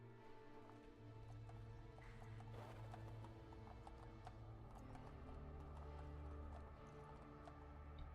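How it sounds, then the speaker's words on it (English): Hooves of a mutated, eight-legged horse clip-clop across ground in the video game Fallout London, a quiet, steady run of hoofbeats over a low droning background. "It's a mutated horse."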